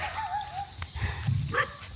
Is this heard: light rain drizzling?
no